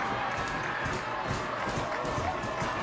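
A crowd at a Friday night high school football game, Wilson at Honeoye Falls-Lima, sends up a broad, sustained roar of cheering and noise from the stands. The crowd noise holds steady throughout, with a commentator's voice talking over it.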